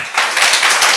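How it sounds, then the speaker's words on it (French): An audience applauds the winning affirmative team at a debate, a loud, close, dense wash of clapping that starts abruptly and continues strongly to the end. "on applaudit encore une fois le camp affirmatif, mais aussi le camp négatif"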